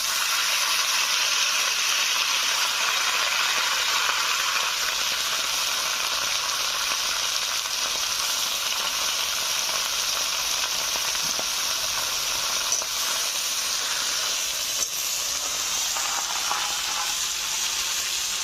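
Gourd leaves and green chilies frying in a hot pan give a loud, steady sizzle and hiss that holds evenly throughout, with faint stirring scrapes and no voices.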